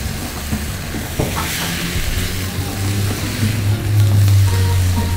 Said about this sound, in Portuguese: E vamos refogar até a cebola perder o ardor dela.